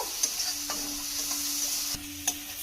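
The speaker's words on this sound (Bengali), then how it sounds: "দিয়ে একটুখানি জাস্ট ভেজে নেব কাঁচা গন্ধটা যাওয়া পর্যন্ত" Steady sizzling of a paste frying in hot oil, with a few sharp clicks of a spoon stirring the pan, no voices.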